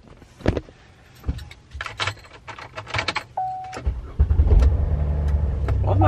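A car starting up: scattered clicks and handling noises, a short whine, then the engine catches and settles into a steady low idle that continues to the end.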